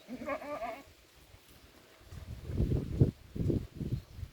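A goat, a mother that has recently given birth, bleats several times in quick succession, a wavering cry near the microphone, followed by low thumping and shuffling movement.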